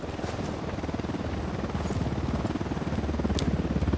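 Helicopter in a video game set in Bolivia: a loud, continuous rapid rotor chop thrumming steadily, close and dominant, with faint game sounds above it.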